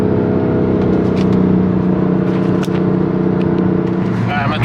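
BMW F80 M3 fitted with a VRSF intake at part throttle, giving a steady close engine drone and whir from inside the car, with faint clicks and rustles on top.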